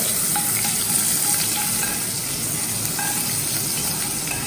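Curry leaves and hing hiss and crackle in hot oil, a loud, dense, continuous sizzle with scattered pops, close up and with no voices.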